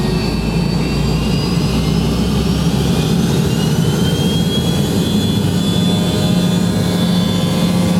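A loud airliner jet engine roars steadily, heard from a seat right next to the engine, with a deep rumble and rising high-pitched whine as the aircraft powers up for takeoff.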